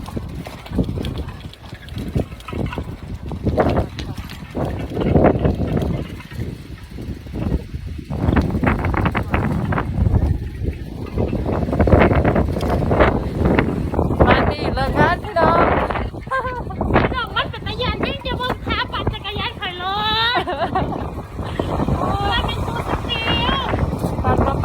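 Strong storm wind in Japan gusts and roars across the microphone in steady broadband bursts, with someone talking over it for much of the stretch.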